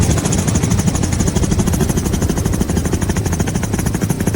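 Inside a helicopter flying over green volcanic mountains in Hawaii, a steady rotor thump and engine drone fill the cabin loudly and continuously.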